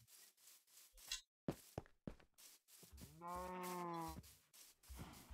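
In the Minecraft video game, a cow gives one long, close moo in the middle of a run of rubbing, clicking and block-breaking noises.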